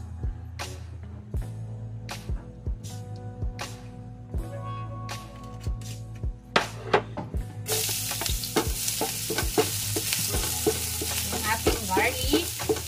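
Olive oil heating in a pan for garlic fried rice: utensil knocks and scrapes at first, then a bright, dense sizzle sweeps in and keeps crackling steadily, close by.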